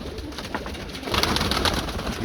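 Pigeons coo softly at a breeder's loft, the rounded calls blending into a steady background of bird noise and rustling, with the cooing growing slightly busier partway through.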